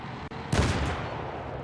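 Gunfire in Battlefield 3 on the Tehran Highway map during a Rush match: a loud, dense burst of shots that fades into a lingering rumble over steady game background noise.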